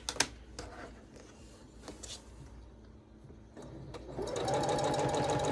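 Sewing machine stitching a quilt block for a barn star pattern, starting after scattered handling clicks and running steadily and fairly close for the last second and a half, with no talk.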